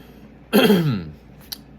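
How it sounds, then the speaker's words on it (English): One loud, close throat clearing, a short rasping burst that fades quickly into near silence. "let me clear my throat"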